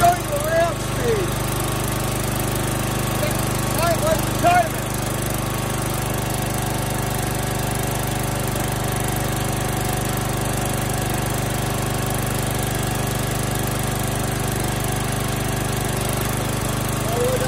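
A gasoline engine on a Huskee 35-ton log splitter idles in a steady, loud drone, with a few short bumps early on as it runs.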